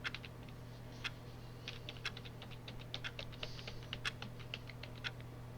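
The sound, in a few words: pressing every letter on a computer keyboard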